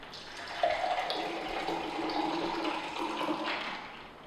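Brandy cocktail pours from a strainer into glasses in a continuous close splashing stream lasting several seconds, with no talking.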